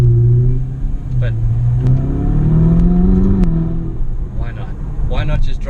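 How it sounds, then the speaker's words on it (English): Turbocharged V8 of a Ferrari 488 Spider in race mode, heard from the cabin with the roof down and rear window lowered: a steady, loud engine drone that swells and rises in pitch, with someone talking over parts of it. "enjoy the oral pleasure of that turbocharged V8"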